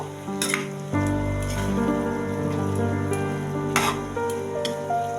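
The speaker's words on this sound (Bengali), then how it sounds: "ভালো করে কষে নেব" Cabbage sautéing in a pan gives a steady, close frying sizzle with stirring and scraping, continuous throughout with a brief louder scrape near the middle and no talking.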